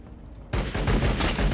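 A sudden volley of pistol shots in Warhammer 40K Battlesector, loud and close, cracking in a rapid, uneven string after a short quiet moment.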